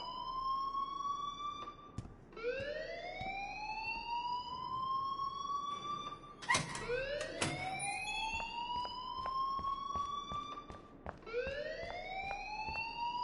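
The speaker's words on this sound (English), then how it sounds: "please turn off that alarm since that's your job." An alarm rings in the video game Life Is Strange, a loud electronic siren that repeatedly sweeps upward in pitch, cycling every few seconds with a brief burst of clatter midway, and no talking.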